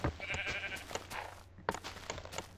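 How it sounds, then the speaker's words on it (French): A sheep in a video game gives short bleats amid clicks and thumps of game action, fairly close over a low hum, with no talking. "Allez, meurs, mouton."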